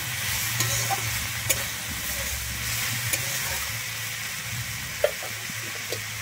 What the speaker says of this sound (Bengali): আমি লবণ আর হলুদটা দিয়ে আবারও শাকের মধ্যে মিশিয়ে নিচ্ছি